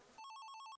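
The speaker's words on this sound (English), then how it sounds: "I'm getting the phone call." Telephone ringing with a rapid electronic trill, about ten quick pulses in under a second, clear and close.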